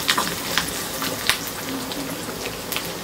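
Fenugreek seeds sautéing in hot oil for a fish curry, a steady soft sizzle with a few sharp pops and crackles spread through, heard close with no talking.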